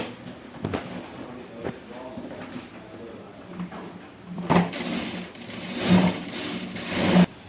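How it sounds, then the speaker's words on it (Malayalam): A sewing machine stitches darts on a cross-cut blouse, running in short bursts that grow louder and longer toward the end of the clip, with faint background noise between runs. "താട്ട് സ്റ്റിച്ച് ചെയ്യാം രണ്ടിടത്ത്."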